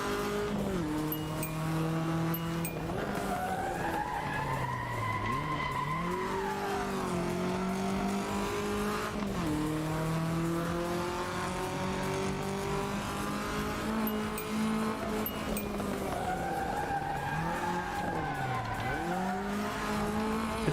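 Light car of about 750 kilograms driven in a video game, engine revving up and down through repeated gear shifts with sweeping pitch changes, loud and continuous for about twenty seconds with no talk.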